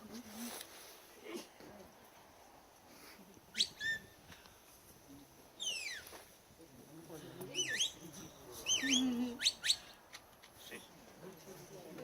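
A shepherd's whistle sounds several sharp commands to Border Collies herding sheep in the Ring of Kerry, in short bursts over open outdoor ambience, with faint birdsong and distant background noise between them.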